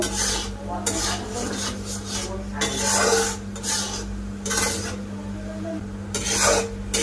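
Raw mango pulp for a sweet-sour-spicy amsotto cooks thick in a pot while a utensil scrapes and rubs against the pot in repeated rasping strokes, close and steady over a low hum, with no talking.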